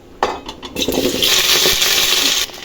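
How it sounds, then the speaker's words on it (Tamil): Okra dropped into hot oil with mustard seeds for sambar, a sudden loud sizzle and crackle that rises and holds steady close by, with no talking. "இப்போ இந்த வெண்டைக்காய் சேர்த்துக்கலாம்"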